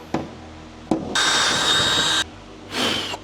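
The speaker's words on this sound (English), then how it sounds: "and then we'll go ahead and drill both of those holes." Power drill boring holes into a car body for an aftermarket plastic part, with a few sharp clicks followed by a sustained whining run and a shorter second burst, close and alone.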